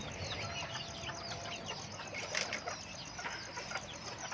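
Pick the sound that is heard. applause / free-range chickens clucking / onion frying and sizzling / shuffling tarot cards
free-range chickens clucking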